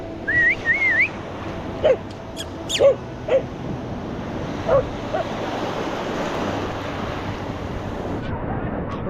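Strengthening wind and sea on an island make a steady, loud broadband roar of gusts and surf, with a few faint whistling chirps and clicks in the first seconds.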